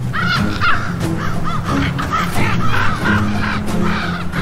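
Ravens caw repeatedly in harsh, overlapping calls against a steady wind-like background, close and loud, with a wolverine moving over snow in a winter wilderness.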